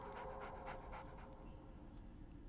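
Pet dog in Baldur's Gate 3 panting steadily in quick rhythmic breaths, close and fairly soft, with no talk over it.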